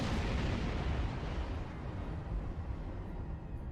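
Borg sphere exploding in the Star Trek Online space combat game, a loud, deep, rumbling blast that rolls on and slowly fades.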